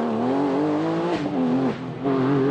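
A Porsche rally car drives a winding, bumpy stage, its engine loud and close with a steady high note that dips briefly during a gear change and then climbs again as it revs.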